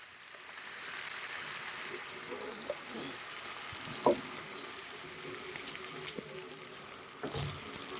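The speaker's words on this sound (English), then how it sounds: "We're adding some fresh cooking cream." Cooking cream poured into a hot pan for Boscaiola pasta and stirred, giving a steady soft sizzle and faint scraping clinks throughout, with no voices.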